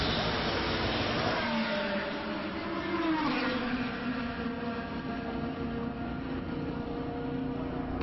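A racing car in a sim racing lap holds a steady, droning engine note that climbs briefly as it accelerates, heard continuously at a moderate level with no pauses.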